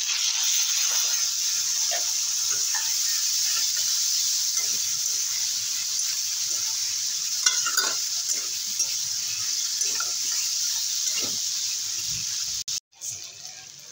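Potatoes in a frying pan sizzle loudly and steadily after water is added, a bright hiss that lasts several seconds and ends in a clatter near the close.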